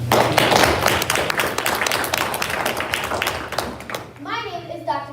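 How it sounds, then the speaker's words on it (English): Loose clapping from an audience at a board meeting, a scatter of sharp hand claps over a few seconds that fades out before a voice speaks near the end. "please give a round of applause"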